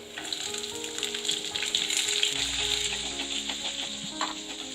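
Small onions (shallots) fry in a pan for a Tamil tomato kadayal: a steady, moderate sizzle and crackle with faint scraping, and no talk.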